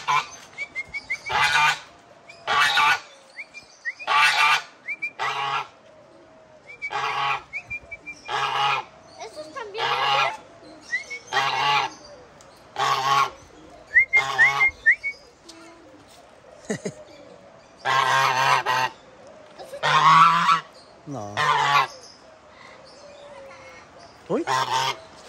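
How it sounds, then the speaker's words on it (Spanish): Geese honk repeatedly in loud bursts, several calls in quick succession with short pauses between, close by, with brief Spanish-speaking human voices now and then. "Los gansos."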